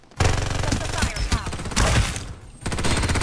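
BAR 95 rifle fire in the shooter game Farlight 84 rattles in rapid, loud bursts that run almost continuously, broken by a brief pause before firing resumes, with a game voice call mixed in.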